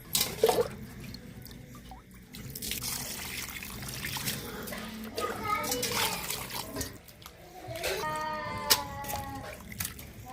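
Water runs and trickles steadily as raw chicken is rinsed in a home kitchen before making chicken pulao, close and continuous under a voice and someone talking.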